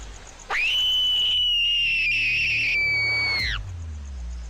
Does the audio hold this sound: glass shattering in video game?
no